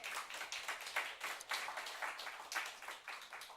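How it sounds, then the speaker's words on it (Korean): A church congregation at a Sunday morning service claps in a steady, fairly even rhythm, the applause soft and somewhat distant with no talking over it. "박수 한번 쳐주세요"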